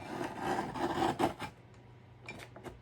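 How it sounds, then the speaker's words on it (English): A paper trimmer slices through several strips of paper at once, giving a scraping rasp for about a second and a half, followed by quieter clicks and shuffling nearby. "And this trimmer doesn't like to work when I'm not right over the top of it."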